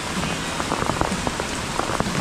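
Heavy rain falls without pause on vegetable garden surfaces, a thick continuous patter with scattered sharper drop hits, close and loud, with no talking.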